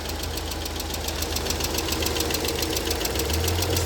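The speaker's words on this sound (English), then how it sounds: "I don't know if you hear the engine or not" A white 2003 Hyundai Grandeur XG running on LPG idles steadily with a fine rhythmic ticking knock and a constant low hum, heard up close with no voices.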